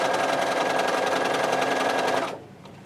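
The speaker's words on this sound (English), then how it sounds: "I'm going to sew all the way to the end." A sewing machine stitches steadily across a quilt, a loud continuous run of rapid needle strokes that stops abruptly near the end, leaving quiet room tone.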